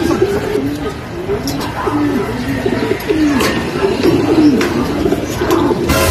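Homing pigeons arriving at a loft, cooing close by in repeated low, throaty phrases, with some wing flutters and background noise.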